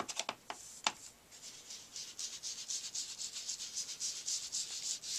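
Crackle paint rubbed and blended on a craft mat, giving a soft, continuous scrubbing and swishing up close, with a few sharp taps at the start and a quiet, steady rhythm throughout.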